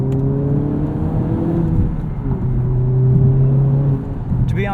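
A 2020 Honda Civic Type R engine pulls hard under acceleration, a loud, close droning whir that climbs and shifts pitch steadily, with no voices over it.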